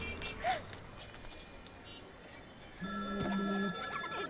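A telephone rings with a steady electronic tone that starts partway through, loud and close, after a stretch of faint background noise and a brief voice.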